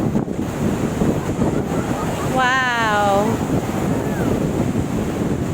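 Loud ocean surf roars continuously at Stanley Beach, Hong Kong, buffeted by wind gusting across the microphone, while a person briefly exclaims in surprise partway through.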